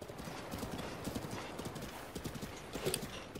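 Horse hooves gallop in The Legend of Zelda: Breath of the Wild, a rapid, steady clip-clop rhythm running throughout, joined by a brief whinny near the end.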